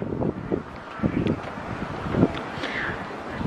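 Gusty wind buffets the microphone outdoors at midday on a sunny day in Sejong, Korea, making a steady low rumble with stronger bursts; faint voices are heard in the background.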